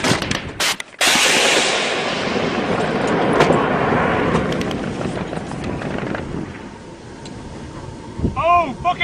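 Soldiers' gunfire in Afghanistan cracks in sharp, loud bursts at the start, followed by rumbling outdoor noise and shouting voices.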